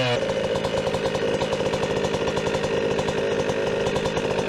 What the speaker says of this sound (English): I want it to get warm and then we'll adjust your idle screw